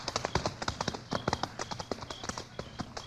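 Horse hooves clip-clop in a steady rhythm on a hard surface, the sharp taps close and clear throughout.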